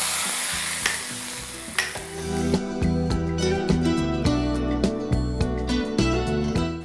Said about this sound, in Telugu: మన కమ్మని పులుసులో పోపు పెట్టేద్దాం.